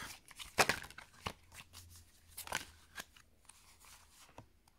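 A deck of oracle cards being cut and handled, a few quick papery flicks and slaps spaced irregularly, close and quiet.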